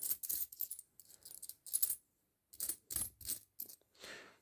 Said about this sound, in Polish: Dobra, możemy sobie te odłożyć monety.